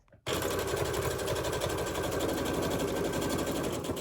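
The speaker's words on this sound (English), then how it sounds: "we are going to just top stitch that to hold it in place" A sewing machine top stitches the folded edge of a fabric face mask, running steadily and loudly for about four seconds with a fast, even needle rhythm from a near position, no talking.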